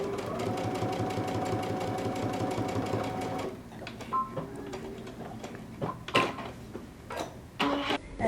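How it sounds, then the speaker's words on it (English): A sewing machine runs in a steady rapid stitching rhythm along the crotch seam of a jumpsuit for about three seconds, then stops, leaving scattered handling clicks and fabric rustles close by. "we're going to stitch the crotch from the large dot that you should have marked to the notch"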